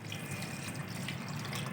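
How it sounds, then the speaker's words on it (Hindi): About three glasses of water are poured into a pot of chicken feet curry, giving a steady, moderately loud splashing and running-water stream with no one talking. "हमने पानी शामिल कर देना है।"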